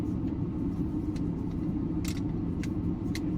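Steady low road rumble fills the inside of a moving car, with a few faint light clicks and taps over the drone and no talking.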